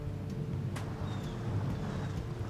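The Severn Bore tidal surge advances along the river a few hundred metres off, a low, distant, steady rumbling roar under wind buffeting on the microphone, with no talk.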